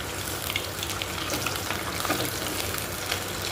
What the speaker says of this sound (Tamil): ஒரு ஒன் ஓ கிளாக் போல் மீன் பொறிக்க ஆரம்பிச்சிட்டேன்